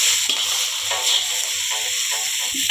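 Egg noodles fry on a high flame in a hot pan, a steady close sizzle and hiss with soft stirring scrapes running through the whole stretch.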